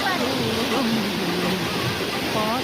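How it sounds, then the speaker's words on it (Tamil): Released water rushing steadily, a continuous broadband wash heard throughout while a person talks over it. "சற்று தண்ணி திறந்துருக்கிறாங்க பாருங்க, எவ்வளோ அழகா போகுது."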